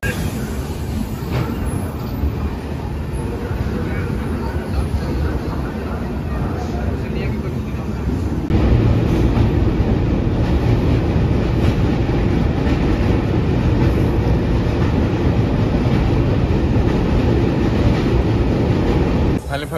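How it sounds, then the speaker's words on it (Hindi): An Indian passenger train pulls out and rolls along the tracks, a steady loud rumble with wheel clatter that swells partway through, heard from inside the carriage while people talk. "जब ट्रेन खुल रहा है तो फिर आप लोग से मिलते हैं"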